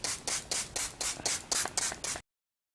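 A series of quick, soft spritzes from a makeup setting spray bottle, about eight in a steady rhythm, then silence.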